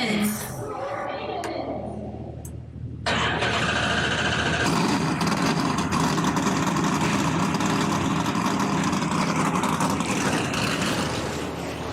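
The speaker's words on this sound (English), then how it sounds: "Drivers, start your engines!" NASCAR Gander RV & Outdoors Truck Series race trucks fire up for the e.p.t 200, with a sudden loud surge of heavy engines about three seconds in that settles into a sustained, dense rumbling idle, after a short stretch of voices and crowd noise.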